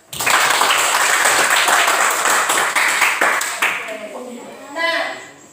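Students in a classroom clap together in a loud burst of applause that fades out, followed by a few faint scattered sounds and a brief voice near the end.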